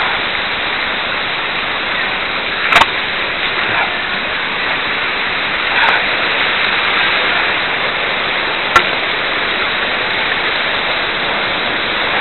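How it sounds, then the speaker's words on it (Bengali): A waterfall in Bandarban pours steadily in a loud, unbroken hiss and roar of falling water close by, with a few brief sharp clicks breaking through. "ঝর্ণার দিকে এগিয়ে যাচ্ছি।"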